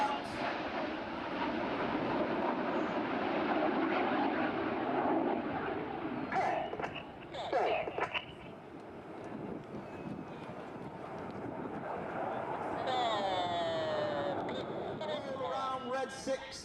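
RAF Red Arrows jets perform at an air festival at Ragley Hall, a continuous loud broadband jet roar sustained throughout, with crowd noise and a commentator speaking over it, and some shifting whine toward the end as aircraft pass.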